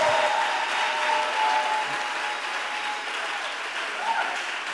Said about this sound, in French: acclame bien fort le Seigneur